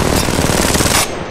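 Loud, close automatic gunfire in the mobile battle royale shooter Apex Legends Mobile, a tight rapid burst of shots lasting about a second before cutting off.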